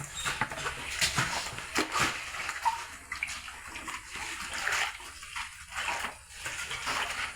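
Water splashes and pours in uneven bursts during washing, close and moderately loud, with irregular slaps and gurgles and brief quieter gaps between pours.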